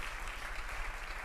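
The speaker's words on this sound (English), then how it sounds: "Y'all give another round of applause." A crowd at a church gathering applauds in a dense, steady wash of clapping, moderately distant and continuous for the whole moment.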